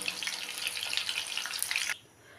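Amudi fish being deep fried a second time in oil over a low-to-medium gas flame: a loud, continuous bubbling sizzle that stops abruptly near the end.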